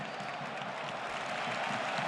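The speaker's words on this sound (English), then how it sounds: "a ripple of applause each time that Pedri ticks along another pass" A stadium crowd at a Barcelona versus Real Madrid Copa del Rey final in Seville gives a ripple of applause, a dense, distant wash of clapping and murmur that holds steady throughout.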